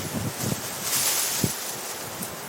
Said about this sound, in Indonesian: Gelebegan angin